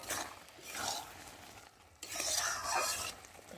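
Bottle gourd cooked with small shrimp is stirred in a kadai, giving soft, close scraping and shuffling strokes over a faint sizzle, with a brief pause midway.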